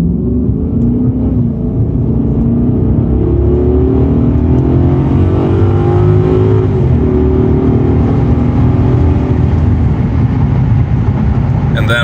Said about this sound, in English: just say you're joining a highway at high speed. Okay, let's go. Just aggressive driving.